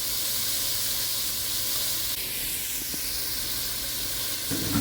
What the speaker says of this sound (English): We're going to go ahead and add those in and let them cook in the fat rendered by the pancetta